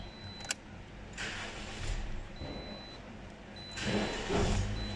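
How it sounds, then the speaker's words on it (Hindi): A Toyota Corolla engine cranks and catches, with a clicking key turn first, then bursts of starter and engine noise that settle into a steady idle, fairly close and moderately loud. "ये गाड़ी स्टार्ट की"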